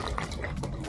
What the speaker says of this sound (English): Fill this water with a tablet.